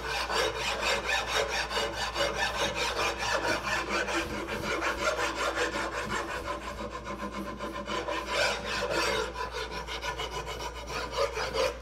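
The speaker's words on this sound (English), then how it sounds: "We're going from a coarse kind of abrasive to a finer file, all the while refining and shaping and truing up." A coarse abrasive file shapes and smooths a wooden furniture part in continuous, close, raspy back-and-forth strokes with a steady scraping rhythm and no talking.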